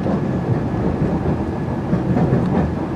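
Freight train wagons rolling past in Belgium, a loud, close, continuous rumbling roar with rattling clatter and no voices.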